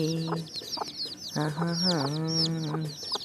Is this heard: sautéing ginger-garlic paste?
no